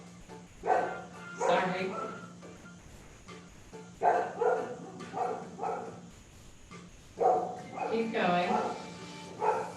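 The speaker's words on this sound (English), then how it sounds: "Think of it as my dog serenading us all." A dog barks in three separate bursts of repeated barks during a chair yoga class, while someone talks in between and over them at moderate volume.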